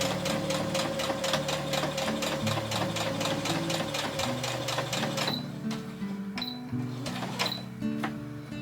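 A sewing machine stitches the edges of patchwork made from scrap fabric samples, a close, rapid mechanical chatter that runs steadily for about five seconds, then gives way to a few slower, separate clicks and taps.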